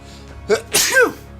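One person sneezes abruptly mid-sentence: a short intake, then a loud, explosive burst with a voiced tail, up close over a quiet room tone.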